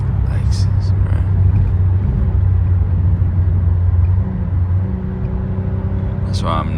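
Steady low engine rumble fills the clip, a constant drone from inside a moving Lexus at night, with faint voices briefly near the start and end.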